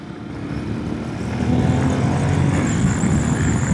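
A 2025 Yamaha Ténéré 700 motorcycle engine pulls harder as the throttle opens, a low droning growl that swells and holds loud from about a second and a half in, mixed with rushing wind.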